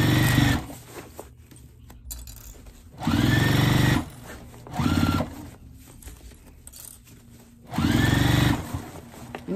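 A sewing machine stitches back over a seam on a fabric car trash bag in several runs, each a few seconds long, with quiet pauses between them.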